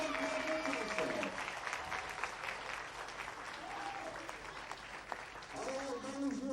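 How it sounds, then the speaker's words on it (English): A crowd applauds U12 boys bowlers at a tournament, steady sustained clapping at moderate distance with voices and faint tonal sounds mixed in. "let's give these athletes a huge round of applause"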